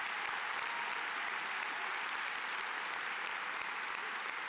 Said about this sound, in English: Please give all of our athletes a round of applause.